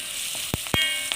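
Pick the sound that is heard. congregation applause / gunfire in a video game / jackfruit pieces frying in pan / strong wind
jackfruit pieces frying in pan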